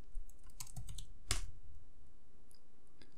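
Quiet close-up typing on a computer keyboard, a few scattered key clicks with one sharper tap, against a faint hiss.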